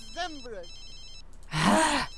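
Telephone ringing in The Sims 3 video game, a synthesized ring burst arriving late and fairly loud after a voice heard in the opening half.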